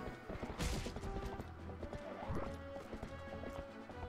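A huge Clydesdale-like horse trots in the video game Zelda: Twilight Princess. Rhythmic clip-clopping hooves sound with a brief whinny, set over quiet tonal game music.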